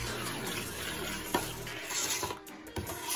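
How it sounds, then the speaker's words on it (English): Praline mixture with melting butter stirred in a pot over medium heat, giving a steady soft scraping and bubbling sizzle with a few sharper spoon knocks against the pot. "So while it's going, you still have to stir"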